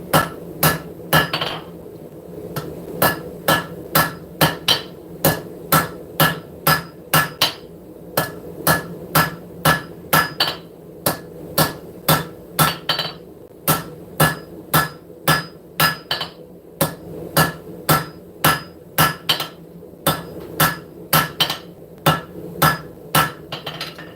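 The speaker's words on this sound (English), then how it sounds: "bring it back on top of the anvil and just hammer it right there." A blacksmith hammers hot metal on an anvil at the forge, delivering a long, steady run of sharp ringing strikes in even rhythm with brief pauses, close and loud without any talking.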